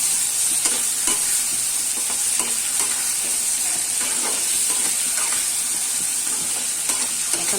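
A ground paste of green chilli, coriander, salt and turmeric fries in a pan with a loud, steady hiss and crackle, with occasional stirring scrapes throughout.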